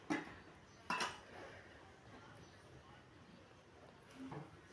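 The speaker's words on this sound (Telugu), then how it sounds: "ఆ గిన్నెలన్నీ ఇంకా సింక్లో వేసేస్తే" A couple of sharp clinks of dishes dropped into a sink, with quieter clatter afterward over a low background hum.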